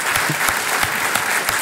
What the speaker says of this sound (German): Ein kleiner Applaus hier.